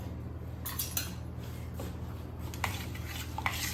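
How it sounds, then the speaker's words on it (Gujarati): A spoon stirs thinly cut jaggery into two glasses of unheated water, giving light, scattered clinks and scrapes against the vessel over a low steady background, with no voices. "આપણે ગોળને આ રીતે જ ચમચી વડે હલાવીને ઓગાળી લઈશું"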